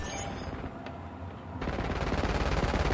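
Rapid automatic gunfire in Call of Duty Black Ops 6 hardcore multiplayer on the Nuketown map, dense and loud bursts that thin out briefly before a heavier, sustained stretch of shooting takes over.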